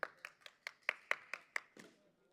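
A few people clapping at a local cricket match, about nine sharp hand claps in a quick steady rhythm, faint and fairly near, ending in a brief scuff.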